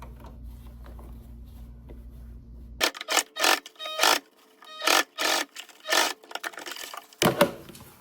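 Sewing machine stitching a seam on a dress being altered, running in several short bursts of a few seconds each with brief pauses between, close and fairly loud after a quiet hum at the start.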